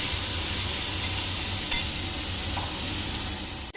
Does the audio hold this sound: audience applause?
no